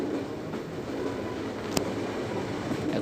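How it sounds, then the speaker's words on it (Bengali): The Sundarban Express from Khulna produces a steady, fairly loud rumble of rolling rail cars, with one sharp click or squeal partway through and no talking. "আমাদের সুন্দরবন ট্রেন চলে এসেছে খুলনা থেকে ছেড়ে"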